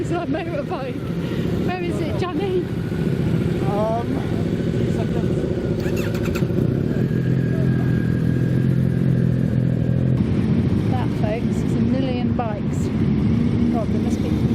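A steady stream of many motorbikes rides past in a busy crowd, engines droning and buzzing continuously at close range, with people talking over the traffic noise throughout.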